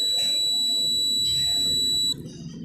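A steady, piercing electronic beep from a multimeter continuity test on a 15-amp ABS and ECM fuse of a Jawa Perak motorcycle holds continuously for about two seconds and then cuts off, with light rustling underneath.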